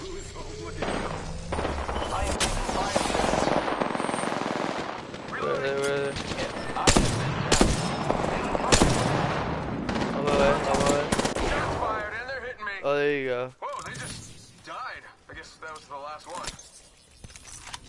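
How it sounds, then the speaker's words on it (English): Bursts of automatic and single-shot video game gunfire crackle rapidly over a dense mix, with a player talking throughout and occasional game voice announcements. "I am taking fire."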